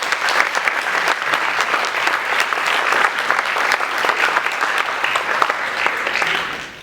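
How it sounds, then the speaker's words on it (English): Steady, dense applause from an audience at a U.S. Army All-American marching band award ceremony, sustained and fairly loud throughout before tapering at the end. "Please give each other a round of applause."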